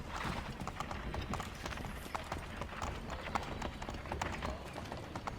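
Horse hooves clopping in a steady trotting rhythm in the Assassin's Creed III Remastered game, close and continuous, with faint game ambience underneath.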